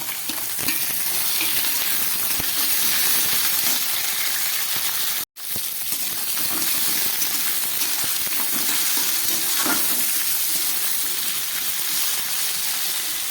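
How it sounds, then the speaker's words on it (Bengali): Potato, pointed gourd and tomato frying in a pan for a vegetarian chorchori, a loud continuous sizzle with stirring scrapes, briefly cut off by a sharp gap midway before resuming. "এবারে এর মধ্যে দিয়ে দিচ্ছি কেটে রাখা পটল আর টমেটো"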